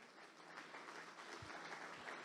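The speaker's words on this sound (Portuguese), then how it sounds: "Você pode aplaudir esse homem de Deus?" Congregation applauding during a church service, a soft, steady patter of clapping that sounds somewhat distant and quiet throughout.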